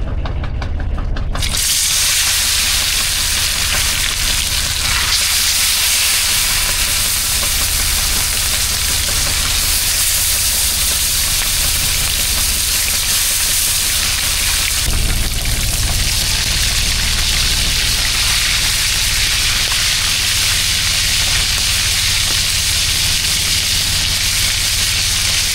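Jumbo king mackerel pieces fry in hot oil, a loud, continuous close sizzle and crackle that starts abruptly and holds steady throughout.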